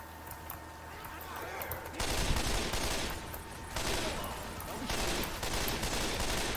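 Sustained automatic gunfire in the zombie co-op shooter Left 4 Dead 2, starting abruptly and continuing loud and dense in long bursts with brief dips, close to the listener.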